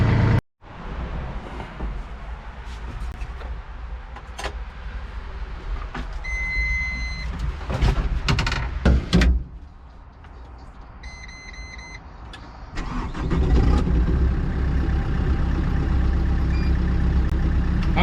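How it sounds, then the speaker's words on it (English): Heavy diesel excavator engine running and moving on an off-grid ranch, a steady loud low rumble throughout that dips for a stretch and then swells louder near the end, with faint tonal whines over it. "I think I just gotta go get the excavator."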